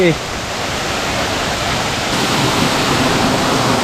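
A waterfall in the Bhimashankar forest pours water straight down from above, a dense, loud, continuous roar of splashing water that stays even throughout, close to the listener.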